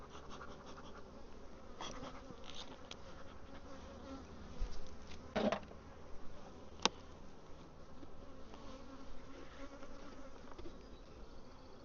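Honeybees buzz around a hive that may swarm, a soft, continuous droning hum with individual bees passing close now and then, and a couple of faint scratches and knocks from hive handling.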